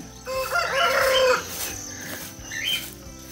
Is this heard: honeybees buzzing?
no